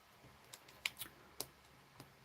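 Scissors snipping through material in several short, sharp, quiet cuts spread unevenly across a few seconds, close by with no talk.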